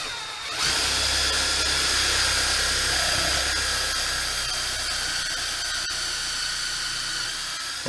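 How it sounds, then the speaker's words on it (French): A cordless drill driver bores pocket holes through a clamped board with a Kreg jig. Its loud, steady whine runs without a break for about seven seconds, then stops abruptly, with no talking over it. "On installe la mèche sur sa visseuse. On installe le système Craig avec un serre-joint sur la planche."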